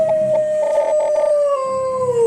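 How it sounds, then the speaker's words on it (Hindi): Dogs howl in a long, drawn-out wail with a few yips, one sustained mournful cry sliding downward, heard alone with a distant, eerie quality suited to a night-time horror scene. "दूर कहीं कुत्तों के भौंकने की आवाजें आ रही थीं।"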